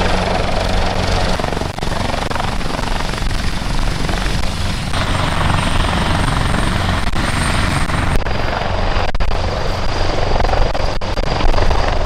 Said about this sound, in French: voir un hélicoptère de combat lâcher des militaires devant la plage